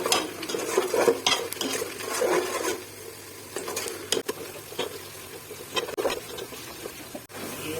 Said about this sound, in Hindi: सबसे पहले ऑयल गरम हो जाए तो फिर प्याज डालने हैं